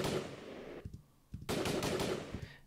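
Rapid bursts of gunfire from edited footage rattle in quick automatic strings, one burst, a short lull, then another dense volley, all fairly quiet and with no talking.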